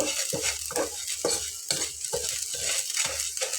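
Flattened rice (chira) stirred in a frying pan, giving rhythmic scraping strokes about every half second over a soft, steady sizzle, close and moderately quiet with no talking.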